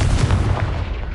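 A spell explosion in a video game bursts as one short, booming blast, loud and close, then quickly decays into a rumbling tail.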